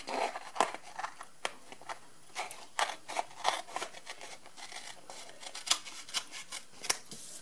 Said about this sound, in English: I just trim that spare piece